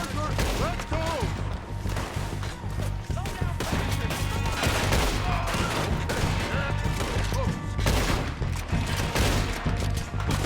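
Rifle gunfire in Red Dead Redemption during a train robbery shootout, rapid repeated loud shots and cracks layered over a dense, chaotic battle din with overlapping impacts throughout.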